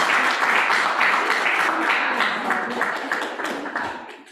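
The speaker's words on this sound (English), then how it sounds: "can we get a round of applause online and in person for Ola?" Applause from a lecture audience for the speaker Ola, dense and sustained clapping from many hands, loud and close at first and easing slightly toward the end.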